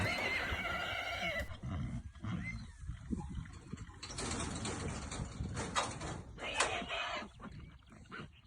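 New Forest pony stallion Polaris neighing among mares on the open forest at Longdown, several whinnies and snorts at moderate distance, fairly faint, with outdoor background noise.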